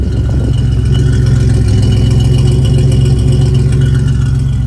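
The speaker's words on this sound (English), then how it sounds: "Let's listen to the exhaust in the meantime." A 1987 Buick Grand National idles with a steady, loud, low exhaust rumble that holds an even tone throughout, close up with no talking.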